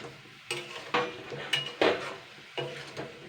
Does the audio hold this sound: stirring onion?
yes